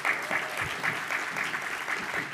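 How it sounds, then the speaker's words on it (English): Audience at an industry conference on apprenticeship programs clapping together, a steady, fairly dense round of applause with faint talk mixed in. "let's give them a round of applause as well."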